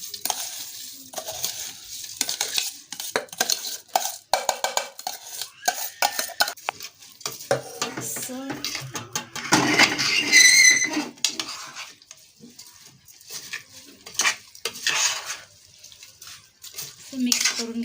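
Rice and mixed vegetables for veg pulao are stirred in a pot, with irregular scraping and clattering strokes over a soft, intermittent sizzle, nearby and moderately loud.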